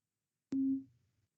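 Aircraft middle marker beacon audio tone at 1300 hertz: a single short steady beep lasting about a third of a second, clear and alone, fading into a faint low hum.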